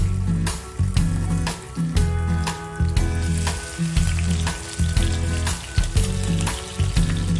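Okoy fritters fry in a pan with a loud, steady sizzle close by, and brief bursts of crackling as batter drops in, and no talk.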